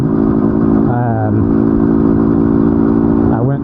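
A Yamaha DT250 two-stroke enduro motorcycle idles steadily and loudly up close, its buzzy engine note rising briefly with a couple of short throttle blips.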